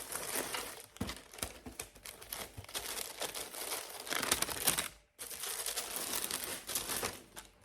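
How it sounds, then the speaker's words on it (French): Crinkling and rustling of tissue paper unwrapped from a Ferragamo ballet-flat shoe box, in quick irregular crackling bursts close to the microphone, with a brief pause midway. "Vous avez tout le papier de soie."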